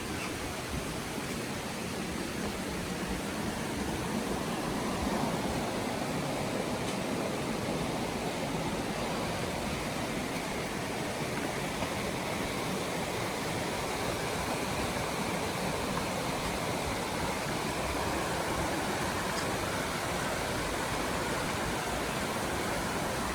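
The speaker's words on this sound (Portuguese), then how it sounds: "dormir com esse som da cachoeira." A waterfall rushes in a constant, dense roar that holds steady and unbroken throughout, with no voices over it.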